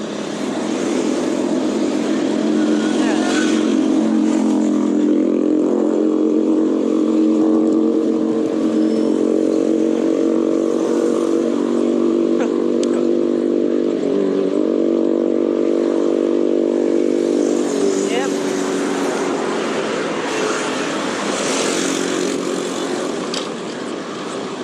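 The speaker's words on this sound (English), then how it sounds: "exhaust noises from motorcycles" Motorcycle exhaust noise in morning traffic, a loud, continuous engine drone with slowly shifting pitch that holds for the whole stretch and fades slightly near the end.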